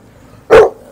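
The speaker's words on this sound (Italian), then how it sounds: "lui abbaia perché se non ci sono io" A single sharp dog bark at a campervan parking area in Cesenatico, loud and close, standing alone against quiet background.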